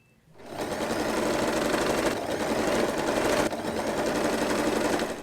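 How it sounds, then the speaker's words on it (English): A sewing machine stitches a folded fabric bow center lengthwise in one steady, close, loud whir. The motor starts after a brief quiet moment and runs on with only slight dips, with no voices. "Fold the bow center lengthwise with the right sides together and get ready to sew these parts."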